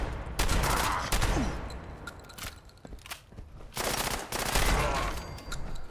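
Rapid gunfire from a first-person shooter game, GTA or Fallout 76, comes in loud bursts of automatic shots separated by short pauses, with faint footsteps between volleys.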